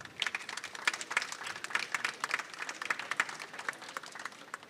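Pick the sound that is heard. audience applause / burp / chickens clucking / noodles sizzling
audience applause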